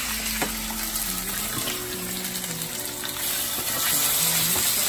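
Food fries in olive oil on a pretty hot pan, a steady close sizzle with crackling spatter that swells slightly near the end, heard alone without talk.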